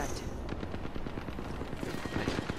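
Gunfire in a shooter video game, with rapid bursts of automatic shots crackling densely and loudly throughout and hardly any gap between them.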